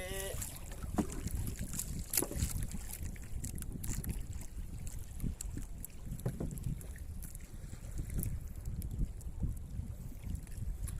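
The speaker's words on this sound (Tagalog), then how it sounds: "maalon ng bagya, medyo mahangin-hangin ng konti" Steady wind roars across an open microphone on Albay Gulf, with rushing water and faint creaks of a small fishing boat underneath.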